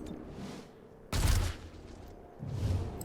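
Gunfire in XCOM Chimera Squad, a sharp loud burst of shots with a deep rumbling tail, followed by a second softer rumble, heard alone with no talk.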